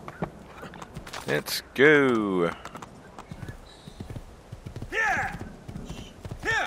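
A horse in the game Assassin's Creed II clip-clops on hooves and gives a loud close whinny, then another neigh shortly after, with someone talking in between.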